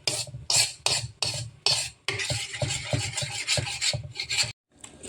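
Peanuts dry-toasting in a pan over low heat, stirred in quick rhythmic scraping strokes that rasp close and steady, pausing briefly near the end.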